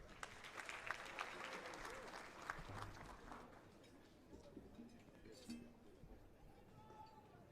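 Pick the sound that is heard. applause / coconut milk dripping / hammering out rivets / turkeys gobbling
applause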